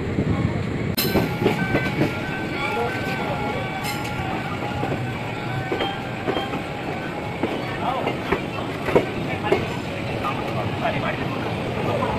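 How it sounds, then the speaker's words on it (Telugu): The Pinakini Superfast Express train rolls into a platform at Vijayawada station with loud, continuous wheel rumble and rhythmic clickety-clack beats, plus occasional squeals, heard close by. "సో మన పినాకిని ఎక్స్ప్రెస్ అయితే మాత్రం 6th ప్లాట్ఫామ్లో విజయవాడలో అయితే ఎంటర్ అయిపోయింది"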